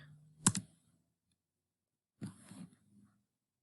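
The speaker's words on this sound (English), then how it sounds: "click enter on your keyboard" A single sharp key press of the enter key on a computer keyboard, loud and close, followed after a pause by another short burst of clicking and handling noise, with no talking.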